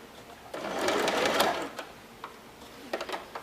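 A sewing machine stitches a coiled fabric basket, its motor running in a steady close burst for about a second before settling into quieter intermittent stitching and short clicks near the end.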